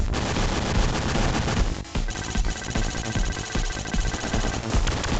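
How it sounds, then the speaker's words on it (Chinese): The Attack Jet boss in the 16-bit Sega Mega Drive game Contra: Hard Corps fires its rotating cannon in dense, continuous rapid gunfire, loud and relentless, mixed with explosion-like blasts. "会旋转炮筒瞄准玩家进行射击。"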